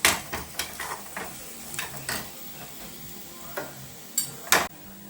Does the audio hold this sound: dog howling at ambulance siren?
no